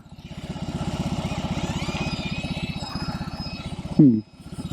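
A 2022 BMW R18 Bagger 1800cc cruiser engine idles close by with a loud, even, lumpy pulse that briefly surges with a throttle blip near the end, while a voice talks over it.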